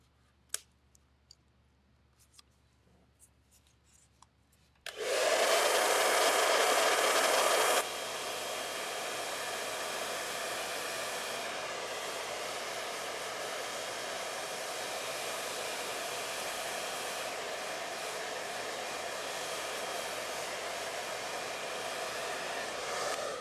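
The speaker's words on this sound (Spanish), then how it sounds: "vamos a secar el cabello" A hair dryer drying hair switches on after a few faint clicks, roars loudly and close for a few seconds, then drops to a lower setting and keeps up a steady blowing whoosh, with no talk.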